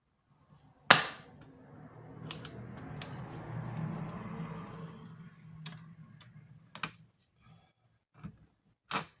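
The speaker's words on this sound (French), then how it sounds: "C'est peut-être le papier qui tape sur les petits pitons là" Paper tapping against the small pins of an Artémio circular stamp press, with sharp clicks and light taps at irregular intervals and a soft rustling stretch between them, close and quiet, without speech.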